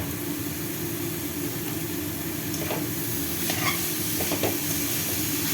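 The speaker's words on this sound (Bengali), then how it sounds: "এবার আমি বাঁধাকপিগুলো ঢেলে দেবো।" Cabbage sizzles in a frying spice mix of onion, coriander and tomato, a steady hiss with a few light scrapes of stirring, no voices.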